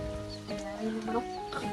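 Chickens clucking close by, several birds giving short overlapping clucks and a few rising calls in quick succession, with faint voices in the background.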